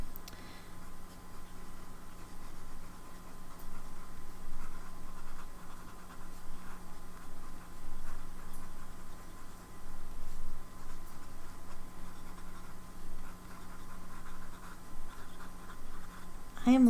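A Taccia Hokusai fountain pen writes across paper in continuous soft scratching strokes, close and steady, with faint breathy sounds between strokes.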